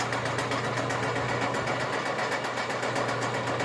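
Auger drive motor running on a rebuilt DMC 40 Hi-Cap rotary grain cleaner, a steady close mechanical drone with a fine rapid rattle and hum, continuous and even throughout with no talk.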